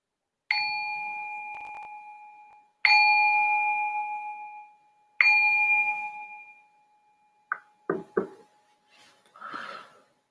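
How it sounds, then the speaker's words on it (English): A meditation bell is struck three times at a steady, unhurried pace to open a group meditation session, each clear ring sustaining and fading slowly, followed by a few soft knocks and faint rustling. "So I'm going to ring the bell to signal the start of our first meditation together."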